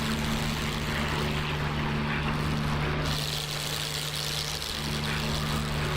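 Propeller aircraft engine in the DCS flight simulator drones steadily through a climb just after takeoff, a constant loud hum with sustained low tones and no voices.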